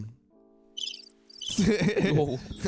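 A cricket chirping sound effect plays in short pulsing bursts, followed by louder, busier sound as voices come in over it.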